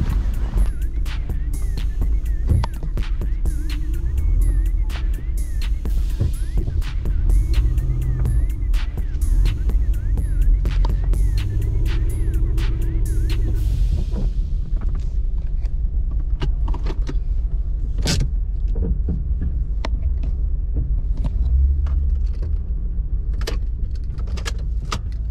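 A Honda Accord picked up from auction is driven, with a steady low engine hum and road rumble running throughout, broken by scattered clicks and rattles inside the cabin.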